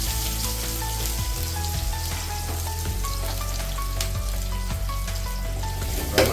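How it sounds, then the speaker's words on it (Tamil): Oil sizzles over onion, bay leaf, cardamom, cloves and cinnamon for a mutton biryani, a steady close crackling fry that holds evenly throughout, with no talking. "அதுக்கப்புறமா ஆயில் ஊற்றுறாங்க"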